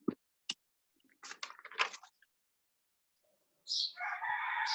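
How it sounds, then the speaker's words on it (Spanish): A rooster crowing on a ranch, one loud sustained crow arriving after a few scattered clicks and quiet noises, heard over a call connection. "Pues ahí escuché un gallo."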